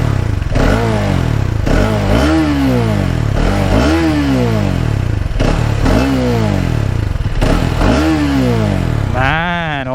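Hero Xtreme 250R motorcycle exhaust revved repeatedly while stationary, a loud, close series of about five sharp rising blips that fall back between each, followed by a final higher rev.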